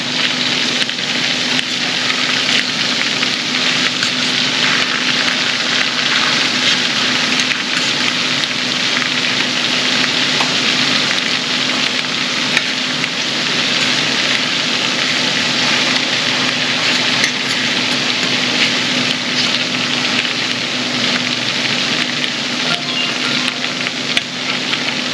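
Deer meat frying in oil in a pan, southern-fried style after being dredged in flour, a steady, dense sizzle with a faint hum underneath that holds at the same level throughout with no talking.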